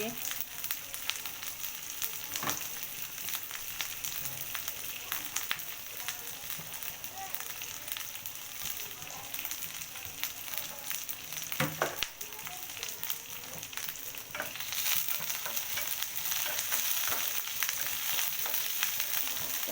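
Green chillies fry in hot oil for chili chicken, a close, steady sizzle and crackle with occasional stirring knocks, growing a little louder toward the end.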